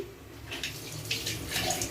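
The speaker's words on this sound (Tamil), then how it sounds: "கொஞ்சோண்டு தண்ணி ஊற்றி" Water splashes and trickles in short bursts into a cooking pot of vegetable kurma, close by, with a soft running, pouring quality.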